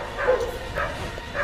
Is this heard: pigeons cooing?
no